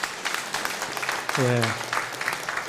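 A church congregation at Sunday worship claps to welcome a member, a steady, moderate round of applause with a voice briefly speaking midway.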